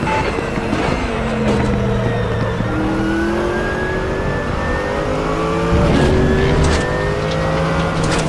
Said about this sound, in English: there's a car exiting the pits, heads up